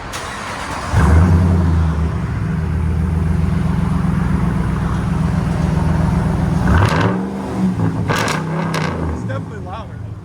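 A 2022 RAM 1500 Big Horn's 5.7L HEMI V8 starts up and rumbles loudly through its true dual exhaust with a deep steady idle, then revs and drops off as voices talk nearby.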